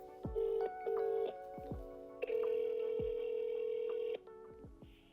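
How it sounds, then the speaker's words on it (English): A telephone is dialed to reach an AI assistant, giving a series of clear keypad tones of varying length with short gaps, followed by a longer sustained tone, close and fairly loud with no talking. "Here, I'll dial it now."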